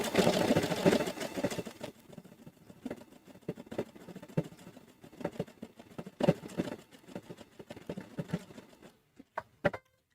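A sewing machine running decorative stitches in short bursts and steady runs, a soft mechanical patter that stops and starts, with a few sharper clicks near the end.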